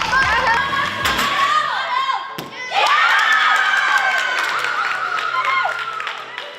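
A group at a sports practice cheers for a teammate, loud overlapping shouts and high-pitched whoops from many young voices, sustained across the clip with a brief lull and a sharp clap before rising again.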